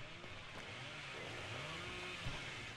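A video game chainsaw revs, an engine-like drone rising and falling in pitch, moderately loud against a steady background hum, with no speech.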